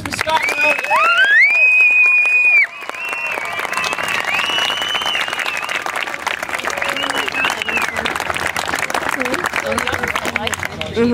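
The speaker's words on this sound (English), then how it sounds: "please give a huge round of applause for Scott Maroney" An audience breaks into loud, dense applause for Scott Maroney at a film premiere event, with cheering and a shrill whistle rising over the clapping and voices mixed in.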